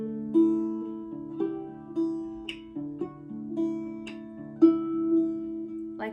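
Octave mandolin plays the opening two measures of a song alone, a close, moderately loud run of plucked notes over sustained lower strings, with picked attacks falling about every second.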